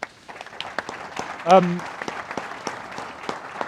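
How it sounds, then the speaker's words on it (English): Audience applause after a panel session at an industry conference, scattered clapping throughout with a brief spoken word partway in. "A round of applause for the audience, please."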